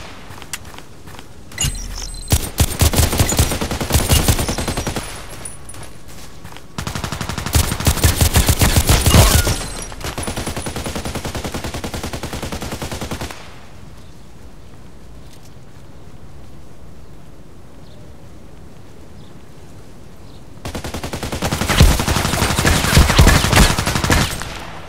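Repeated automatic gunfire bursts from an H&K 416C and RPK-74 in the shooter game Contract Wars, loud dense volleys separated by quieter stretches of ambient game noise, with a final burst near the end.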